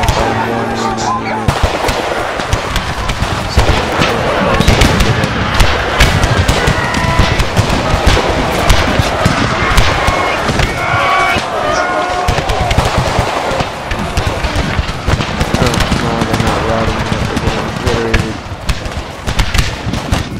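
Massed musket volleys from infantry units in an Empire: Total War battle under an American Civil War mod, dense crackling fire rolling continuously like firecrackers, loud and sustained throughout with occasional thuds.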